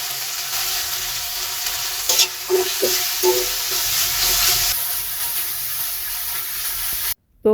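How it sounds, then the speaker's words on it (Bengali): Ground spice paste of ginger, garlic and onion fries in oil for a broiler chicken curry, a steady close sizzle with occasional stirring scrapes, cutting off sharply near the end. "বাটা মশলাটা আমি ভালোভাবে ভেজে নিয়েছি তেলের মধ্যে"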